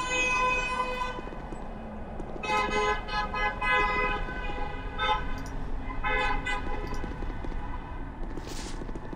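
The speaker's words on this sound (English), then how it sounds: "Don't know if you can hear the honking outside." Car horns honk outside in a long, continuous, overlapping chorus of sustained blares, heard steadily through a window at moderate distance, with faint talk barely present.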